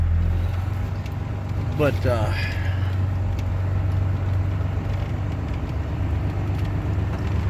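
A four-wheel-drive truck idles and rolls along a wooded property trail near a swamp, giving a low, steady engine rumble close by, with a brief spoken word over it early on.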